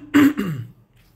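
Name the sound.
coughing and throat clearing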